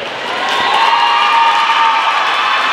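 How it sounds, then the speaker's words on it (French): An audience at the Miss Tampon 2022 pageant applauds and cheers, a dense swell of clapping that rises quickly and holds loud for a few seconds. "On peut applaudir encore très très fort."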